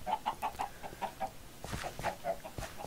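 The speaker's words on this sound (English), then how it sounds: "There's a lot of chickens here," Chickens cluck in Minecraft, a rapid series of short clucks at a steady rhythm from several birds nearby, followed by a few scattered softer clucks and footsteps; no talking.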